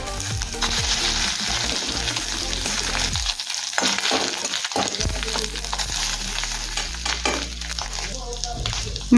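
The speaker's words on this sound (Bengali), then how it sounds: "মাছের ডিম ভাজার জন্য কড়াইতে একদম অল্প পরিমাণে তেল দিয়ে ডিমটা ভাজতে হবে।" Fish roe fries in a little oil in a wok, a close, steady sizzle that drops away briefly midway, then returns with scraping stirs while a voice talks over it.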